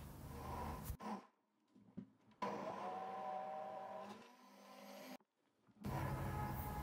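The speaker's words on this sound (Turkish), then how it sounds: "Blender yardımıyla mercimekler püre haline gelene kadar çekelim." A blender roars in bursts, pureeing soaked lentils, running loud and steady, pausing briefly twice before starting up again.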